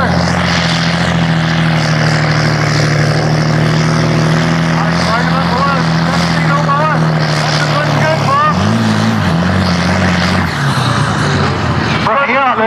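A pulling tractor at a Kirkistown tractor pull roars loud and close with a sustained heavy engine drone that shifts pitch as it works, while an announcer talks over it.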